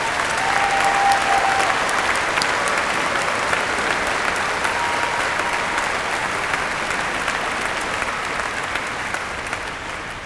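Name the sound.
audience applause for faculty and staff at convocation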